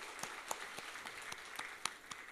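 At a Friday worship service, a church congregation claps in applause of glory to God, sparse and fairly quiet, with scattered individual claps standing out over a soft background.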